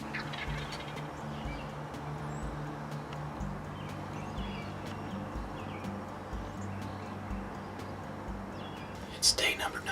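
Male wild turkey gobbling during a spring hunt in Indiana, faint and distant under steady outdoor background noise and low rumble, with a brief louder burst near the end.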